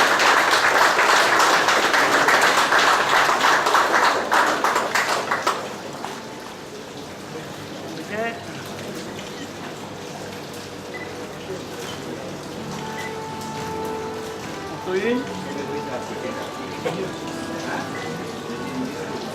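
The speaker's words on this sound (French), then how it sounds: "Alors, on va les applaudir" An award ceremony audience gives dense, loud applause for about five seconds, then it quickly dies away into quieter room noise with a few faint voices.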